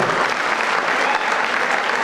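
An auditorium audience at a traffic awareness seminar claps for the police department, a dense, even burst of applause that holds steady for its whole short length.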